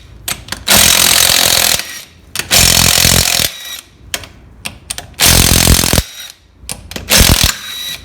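Bursts of a power tool spinning a 20 socket on and off the wheel nuts of an HQ One Tonner, several loud rattling runs separated by short pauses.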